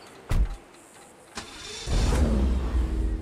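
A sports car engine starting up in GTA 5 Online, either a Grotti Cheetah Classic or a Dewbauchee Vagner: two short clicks, then the starter catches and a loud, close engine settles into an idle rumble.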